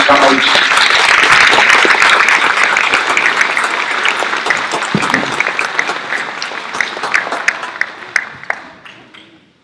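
An audience at a San Jose Japantown book launch breaks into loud, sustained applause that starts at full strength and slowly thins to scattered claps before fading out.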